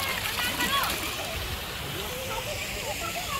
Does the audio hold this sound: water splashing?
yes